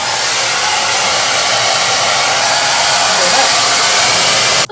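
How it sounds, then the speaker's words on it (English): Blow dryer used to stretch natural hair, a loud, steady close-up whooshing roar of hot air running without pause until it cuts off at the end. "you can go back with the blow dryer"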